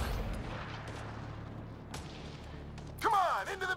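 Heavy gunfire and booming blasts from the video game Mass Effect Andromeda, a loud burst at the start followed by scattered shots and thuds, with a voice speaking over the action.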